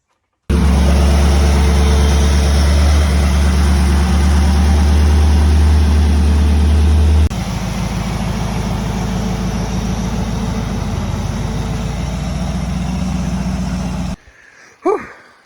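A motor engine runs steadily after a throttle cable repair, a loud continuous idle with a low drone that shifts in tone partway through, then cuts off near the end with a brief clatter.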